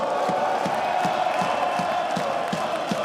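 A crowd at an esports semifinal tournament roars continuously, full and loud, with rhythmic chanting pulses and whoops throughout.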